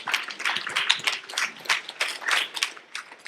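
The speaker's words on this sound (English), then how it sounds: "why don't you give one more round of applause to the students for just completing their films" A small audience at a student film premiere claps for the students, the sparse, uneven hand claps coming in irregular bursts, close and fairly clear, with no talking.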